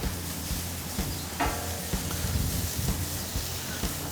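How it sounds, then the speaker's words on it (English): Smoked chicken legs sizzling on the grill while being basted, a steady close crackle with soft stirring and dabbing noises on top. "We're gonna go ahead and just start basting these or mopping them."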